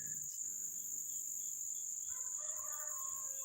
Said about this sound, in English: You hear the competing roosters, the different neighbors' roosters talking.